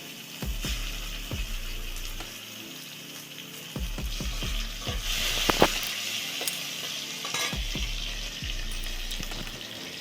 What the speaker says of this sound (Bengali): আমি ভালোভাবে ফ্রাই করে নেব এরপরে দেখো আমি টমেটোটা দিয়ে দিলাম